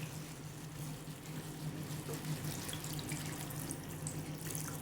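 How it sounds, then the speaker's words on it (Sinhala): Water runs into a pot of chicken for Arabic kabsa in a steady, faint stream, a soft continuous splashing rush with no speech. "වතුර ටිකක් දාලා අපි හොඳින් මේක තඹ ගමු"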